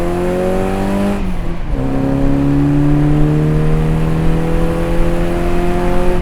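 A 1965 Austin Mini Cooper S accelerates hard, its engine note climbing steadily through the revs, dropping briefly at a gear change around the middle and then rising again, loud and close throughout.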